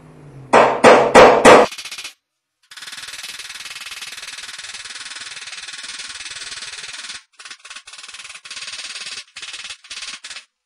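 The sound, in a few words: hammering dents out of car hood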